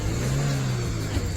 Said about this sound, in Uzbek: Mashinaning motorlari ham zo'r ekan.